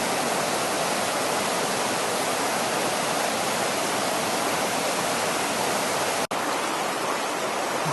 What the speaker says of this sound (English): the power of the water is beginning to breach this beaver dam